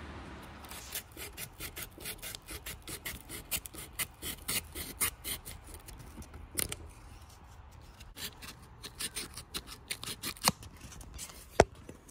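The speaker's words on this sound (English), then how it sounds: "We'll go ahead and pull this flywheel off and clean these points." Ignition points of a 1972 Johnson 6 hp outboard being cleaned with a file, giving a steady run of close, rapid rasping scrapes with brief pauses and sharper clicks throughout.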